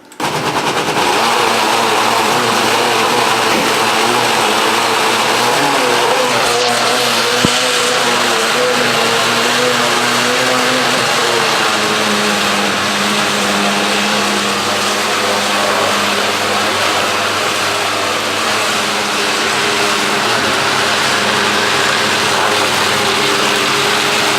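A food processor on its puree setting grinds boneless meat for meatballs, a loud, continuous motor roar with a harsh grinding rattle that holds steady for the whole stretch, its pitch shifting slightly partway through.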